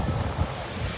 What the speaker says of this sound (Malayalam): എന്നാലും നല്ല രസമുണ്ട്, തണുത്ത കാറ്റ്